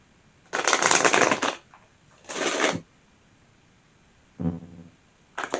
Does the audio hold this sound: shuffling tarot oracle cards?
yes